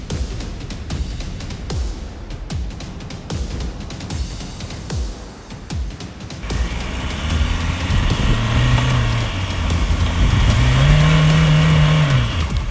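A Ford Ranger Raptor pickup on stock BF Goodrich All Terrain tyres, stuck in slippery clay off-road, revs hard, its engine note rising and falling in repeated loud surges over churning, grinding noise, with no talk.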